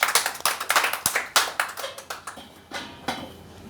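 Audience clapping at a Hindi talk on positivity, heard as a loose burst of separate hand claps that comes in uneven waves and thins out toward the end, close and fairly loud with no voices.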